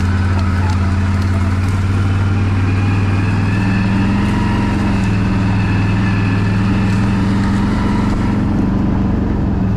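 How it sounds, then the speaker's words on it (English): A four-wheeler ATV engine running steadily, a loud, close, continuous low rumble with no breaks or changes in pace. "I've been riding it down with my four-wheeler. I just got this going back going a couple weeks ago."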